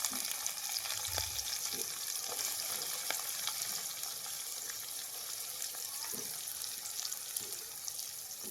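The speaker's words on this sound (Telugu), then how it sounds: "ఇప్పుడు నేను ఉల్లిపాయలు అయితే వేసుకున్నానండి" Onions frying in a pan after prawns have been cooked, a steady dense sizzle running throughout with occasional soft stirring knocks, close and continuous with no talk.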